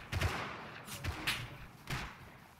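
Gunshots ring out in Rust, four or five heavy, separated reports with booming low ends spaced irregularly about half a second apart, fairly close and loud, with no talk.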